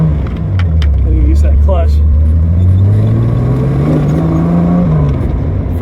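A 1973 Datsun 240Z fitted with a replacement 2.8 liter engine drives close and loud, its steady hum rising in pitch as it accelerates through the gears. Someone talks over the engine throughout.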